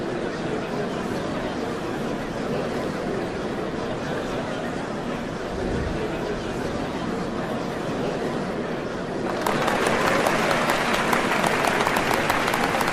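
A large crowd applauds in the Final Fantasy XIV: Dawntrail game on the road to the Golden City, a dense and steady clapping roar that grows noticeably louder near the end.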